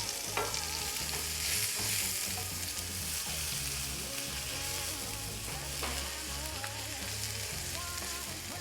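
Butter, minced shallots and three cloves of minced garlic sizzle and fry steadily in a pan while being stirred, a close, continuous crackle with occasional scraping, and no talking.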